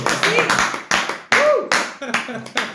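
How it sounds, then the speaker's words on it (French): A small group around a table clapping for a returning friend, bursts of hand claps mixed with cheerful voices and exclamations, close and lively. "Eva est revenue autour de la table, on peut l'applaudir"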